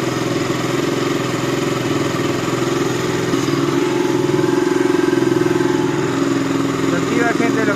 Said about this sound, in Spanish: Está prendido el ventilador y la motocicleta no mantiene el mínimo estable